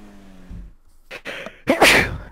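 One sharp, close sneeze bursts out loud after a short indrawn breath, with a faint game tone humming underneath during a Christmas-themed GTA Online session.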